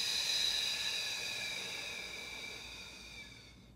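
A slow exhalation during a rib-cage breathing exercise comes out as a soft, steady breathy hiss that fades gradually over several seconds.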